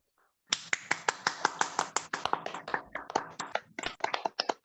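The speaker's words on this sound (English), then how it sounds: "Just unmute yourself and clap it once." People on a video call clap their hands one after another, producing a rapid series of sharp, isolated claps and snaps after a brief silent start, each dry and close, spaced unevenly like separate participants taking turns.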